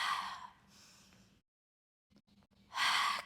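Breath is pushed out during a mat pilates exercise, heard as a short airy exhale, a pause of near silence, then a longer, stronger exhale, close and with no other sound.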